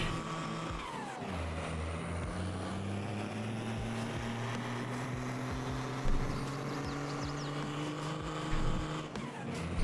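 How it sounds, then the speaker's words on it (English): A heavy truck engine roars in a farming video game at a steady, loud drone, with a brief rising whine near the start and no talking. "the truck is so loud"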